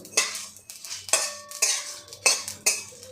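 Spices for a masala paste being dry-roasted in a pan, with a spatula or spoon scraping and clinking against the metal in a quick series of sharp, close strokes, no talk.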